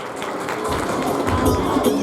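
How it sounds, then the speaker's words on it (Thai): Audience applause for the winner of a Mask Singer contest at a shopping-mall game event, a continuous crowd clatter of clapping mixed with cheering and a voice talking over it. "ขอเสียงปรบมือด้วยค่ะ"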